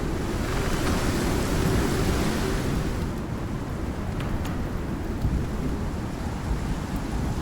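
A thunderstorm rumbles with a dense, steady roar of rain and wind, loud and continuous throughout, easing slightly partway through, with no talking.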